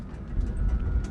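A four-wheeled electric e-bike's body rattles while driving, a low rumbling drone with light clicking and clattering on top, steady and moderately loud.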